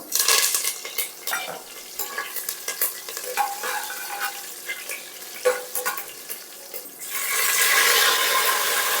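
Shahi jeera, green chilies and curry leaves hit hot oil for bagara rice, bursting into steady, loud crackling and sizzling with sharp pops, swelling into a stronger hiss near the end; no one speaks.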